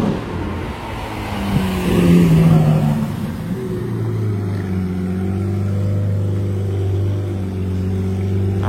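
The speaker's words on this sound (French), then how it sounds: "le voiturier, il est en train de cruiser en Reventon Roadster au calme" Lamborghini Reventon Roadster cruising slowly past, its engine rumbling low and steady, swelling louder as it nears and then settling into a smooth idle-like drone, with no talk.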